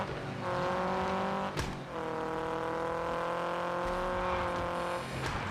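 A Venom car drifting in the mobile game Car Parking Multiplayer, with a loud, steady whining engine and tire tone that breaks off briefly twice as the slide resets. No voices.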